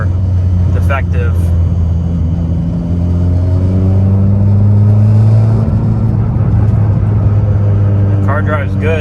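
A car with a worn, defective alternator clutch drives along with a constant low engine rumble and drone that shifts in pitch with speed. Brief chirpy rattles rise over it near the start and end, and a voice talks over the noise.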